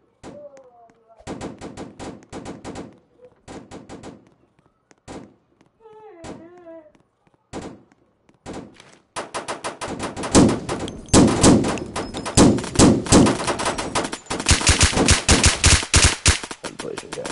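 Video game gunfire from a shotgun and a Desert Eagle pistol in a Fortnite-like shooter: scattered single shots at first, then dense rapid bursts of shooting that grow loud and continuous toward the end.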